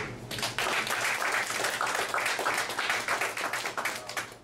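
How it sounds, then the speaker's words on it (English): A crowd at a youth all-American football jersey presentation gives a round of applause, with crisp, dense clapping that stays steady and fairly close, slightly uneven in the final second. "So I really want to give a round of applause to these guys for everything they've been doing."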